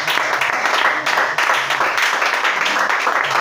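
Congregation applauding during a church worship service, dense steady clapping from many hands lasting throughout, loud and continuous with a faint voice underneath.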